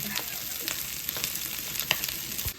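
Okra sizzles steadily in hot oil in a pan, a soft continuous crackle and spatter throughout, fairly quiet and without talking.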